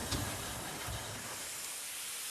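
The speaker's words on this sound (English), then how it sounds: "This locomotive behind me, Fenchurch, is what's known as a Terrier" Steam hissing from the Terrier tank locomotive Fenchurch, a very small engine, as a loud steady broadband rush that holds throughout without any talk over it.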